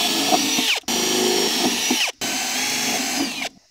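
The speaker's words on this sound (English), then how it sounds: "I'm going to drill out the holes for my wicks" A power drill whines loudly in three sustained bursts while boring holes in plastic, pitch dipping as the bit bites, with brief pauses between runs.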